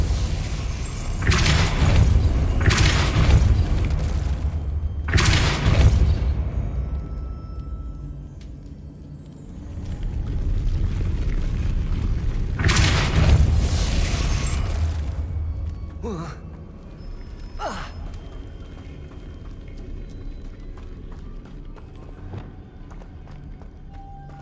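Depulso force spells cast in the game Hogwarts Legacy, with a few loud booming bursts in the first fifteen seconds, then softer scattered game effects and clicks.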